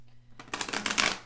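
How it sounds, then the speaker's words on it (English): A quick riffle of tarot cards being shuffled, a short burst of soft flapping clicks up close after a brief quiet start. "I feel the need to shuffle again, so let's do that."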